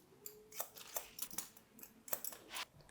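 Scissors snip through long hair, up close but quiet, in a handful of short separate cuts spaced irregularly.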